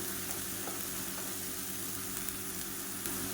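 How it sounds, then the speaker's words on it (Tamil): A ground mint and coriander paste sautés in hot oil, giving a steady, even sizzle with a faint low hum underneath, quiet and continuous with no talking. "இப்போ எண்ணெய் நல்லா சூடாயிடுச்சு நம்ம அரைச்சி வச்சுருக்க இந்த புதினா கொத்தமல்லி பேஸ்ட்டை சேர்த்துக்கலாம் இப்போ இது பச்சை வாசனை போகிற அளவுக்கு நல்லா வதக்கி விட்டுக்கலாம்"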